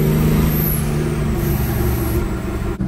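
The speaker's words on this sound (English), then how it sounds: "I cannot get over how this exhaust brake sounds with this truck." A monster truck's exhaust brake drones steadily with a deep, rumbling chug that ends abruptly near the end.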